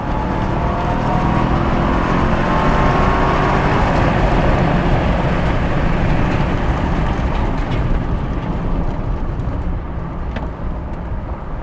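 A Ram TRX pickup accelerates hard on dirt, its engine switching from four to eight cylinders and producing a loud, sustained, close roar with a dense rumble that holds steady before easing slightly at the end.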